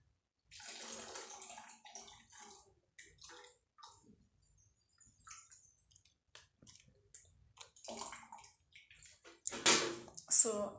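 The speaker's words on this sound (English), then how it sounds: "So I'm going to add milk." Milk is poured into boiled water in a pot while making Kenyan chai, giving splashy, gurgling pours that swell louder near the end, with a person talking through much of it.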